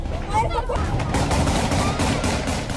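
Rapid bursts of gunfire from Taliban fighters shooting into the air to scatter protesters, loud and repeated with crowd noise underneath.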